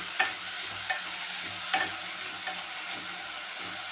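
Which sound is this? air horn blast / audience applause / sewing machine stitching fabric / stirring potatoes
stirring potatoes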